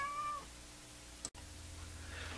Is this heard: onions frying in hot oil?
no